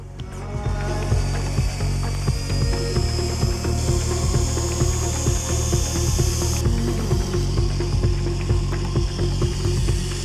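A polisher with a soft pad whirs steadily against a yellowed Porsche headlight, a continuous buzzing drone with a rapid rattling texture throughout, close and unbroken, no voices.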